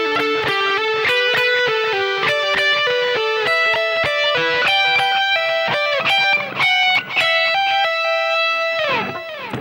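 Overdriven electric guitar plays a phrase: rapid, evenly picked notes climbing and repeating in a steady pattern, then a final note slides down and fades, loud and close, with no voice.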